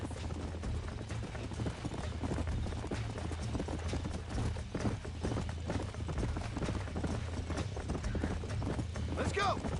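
Herd of horses galloping in Red Dead Redemption, a steady drumming of hooves running the whole way through, with a low rumbling bed underneath and voices coming in over it.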